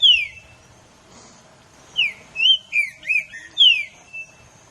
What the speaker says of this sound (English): It's the song of the green-winged saltater